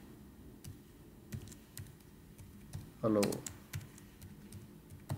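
Code is typed on a computer keyboard in Visual Studio 2017, a fast cluster of close key clicks in the middle between scattered single taps, while someone speaks.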